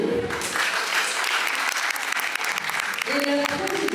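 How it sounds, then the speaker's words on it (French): Steady audience applause at a pin-up contest convention, dense continuous clapping with some voices mixed in beneath it. "vous pouvez l'applaudir."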